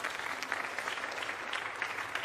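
An audience applauds members of a cooking-contest jury, a steady stream of clapping from a modest crowd that holds evenly at moderate loudness for the whole stretch.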